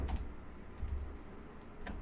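A computer keyboard is typed on in a few quiet, separate keystrokes, soft clicks spaced out over a couple of seconds in a quiet room.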